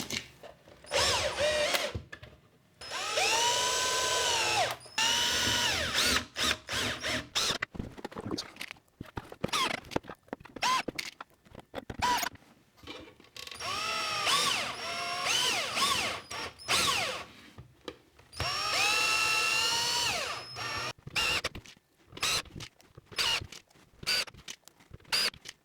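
Power drill driving bolts into a plaster mold box, several separate bursts of whirring and rattling broken by short pauses and handling clatter, close and fairly loud with no voices.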